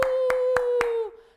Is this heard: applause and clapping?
yes